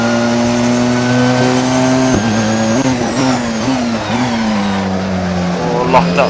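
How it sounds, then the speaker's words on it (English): Porsche hybrid race car in the Assetto Corsa racing game, engine droning steadily then dipping and shifting in pitch as a tyre locks up under braking, with faint squeal near the end. "lock that tyre up a bit then"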